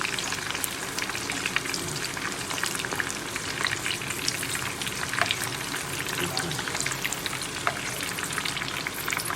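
Eggs being fried for an egg korma crackle and sizzle continuously in hot oil in a pan, with steady dense spitting throughout and occasional faint scrapes as they are turned.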